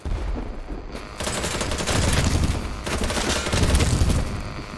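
Dense, continuous gunfire from a BattleBit Remastered match, with rapid automatic bursts and heavy shots that run unbroken for the whole stretch and swell loud near the end, and no talk over it.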